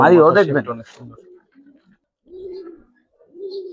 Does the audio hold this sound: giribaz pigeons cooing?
yes